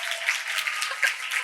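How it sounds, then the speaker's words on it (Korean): Brief burst of audience applause at a consulting company's year-end talk concert, a short patter of clapping from a modest crowd at moderate distance. "여러분 큰 박수 부탁드립니다."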